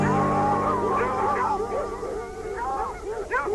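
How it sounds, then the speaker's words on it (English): Hunting dogs baying and howling at a distance, with drawn-out wavering cries that rise and fall steadily and overlap one another throughout. "Then he heard the distant baying of the dogs."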